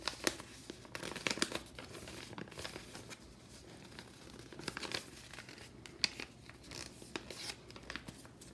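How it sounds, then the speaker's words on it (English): Paper being folded into a small handmade book for journaling, heard as close, continuous crinkling and rubbing with sharp creases and soft rustles throughout, no talking. "You can then fold down the edges of your paper to create your pages."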